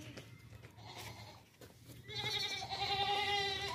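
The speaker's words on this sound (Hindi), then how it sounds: "अच्छी हाइट में मोटी ताज़ी जवान बकरी है ज़बरदस्त है" A young, healthy dairy goat bleats loudly and close by, with a steady drawn-out cry near the end, while lower livestock noise fills the background.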